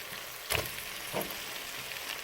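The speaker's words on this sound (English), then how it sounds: "everything is covered with oil and in heat now. I am going to add our sausage to it" Sausage sizzles and fries in hot oil with onions and green peppers, a steady crackling hiss with a couple of sharper spits as pieces are stirred in the pan.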